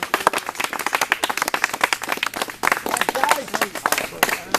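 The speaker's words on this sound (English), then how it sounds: "I'll give you a round of applause." A small group claps in a round of applause, uneven individual hand claps close by, with people talking over the clapping.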